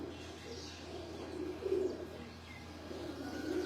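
Teddy pigeons coo softly on a Lahore rooftop, low murmuring calls rising briefly in the middle and again near the end, faint under steady background noise.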